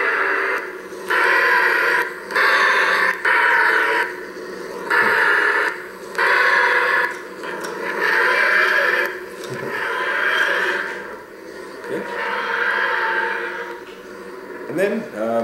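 Lightsaber clash effects from a Doctor Who themed saber sound font sound as a series of bursts of crackling, buzzy noise with brief pauses between them, repeating over a continuous hum.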